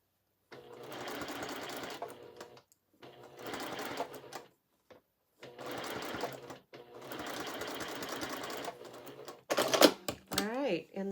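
A sewing machine stitches a curved quilt piece in several bursts of steady whirring, each a couple of seconds long and separated by pauses, with a brief clatter and a voice near the end.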